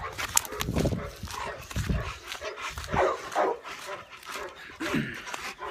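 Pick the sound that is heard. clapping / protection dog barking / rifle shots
protection dog barking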